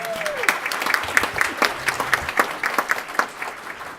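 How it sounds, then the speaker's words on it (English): Applause at a school district board meeting, a steady patter of many hands clapping at moderate volume, with a brief voice at the start. "So round of applause for Palace."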